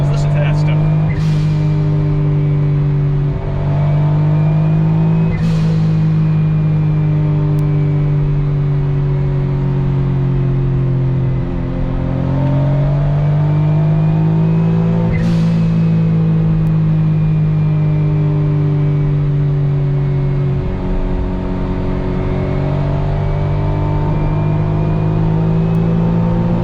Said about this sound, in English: turbo noises. Listen to that stuff.